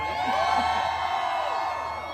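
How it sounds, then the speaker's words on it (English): Live crowd cheering and whooping at a Deadpool and Wolverine story time event, a dense continuous roar of voices held at a steady level. "you can continue cheering if you'd like"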